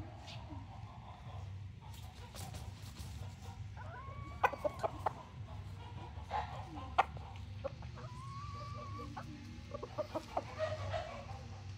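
Gamefowl roosters crow and cluck in a farm yard, several birds calling in scattered bursts over a steady low background hum, with sharp clucks standing out at intervals.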